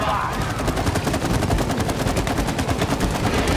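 Rapid automatic gunfire in the video game It Takes Two, a dense, steady stream of shots lasting the whole stretch, loud and up front.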